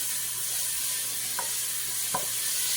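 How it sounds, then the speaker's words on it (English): Thai green chili paste frying in a pan, a steady bright hiss of sizzling oil, close and even, with two brief clicks of a utensil moving it around, and nobody speaking. "And I'm just going to fry that around."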